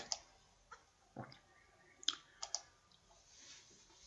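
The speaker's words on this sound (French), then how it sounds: "on clique sur Preview Plot" Computer mouse clicks, a few sharp faint clicks spread irregularly through a quiet stretch, close by with faint handling noise between them.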